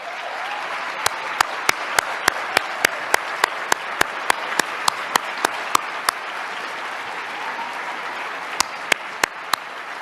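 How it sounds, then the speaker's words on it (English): A large legislative chamber audience applauds Democratic Senate members at a State of the State address, a sustained, even wash of clapping heard throughout, with sharp regular clicks cutting through it. "stand up so we can give you a round of applause"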